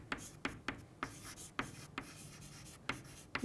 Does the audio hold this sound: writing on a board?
yes